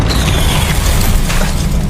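The Confringo spell from Harry Potter bursts with a loud, dense, booming blast that rumbles without a break for two seconds. The sound is close and fills the whole stretch, with no talking over it.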